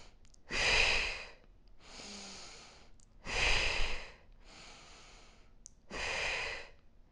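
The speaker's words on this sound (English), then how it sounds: "This power breathing, activating the abdomen and the core through your breath" Power breathing during a beginner kettlebell floor exercise: three loud, forceful exhales alternate with softer, longer inhales in a slow, even rhythm, close and clear with no talk.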